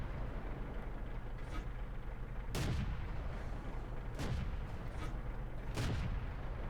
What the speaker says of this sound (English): I'm just shooting into spaces where people normally hide